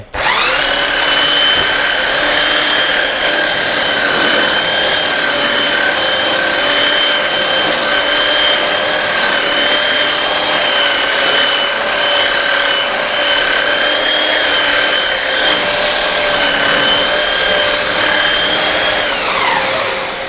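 A tank-style belt sander running with sandpaper, a loud, steady high-pitched whine with a grinding hiss that holds for about twenty seconds before winding down at the end.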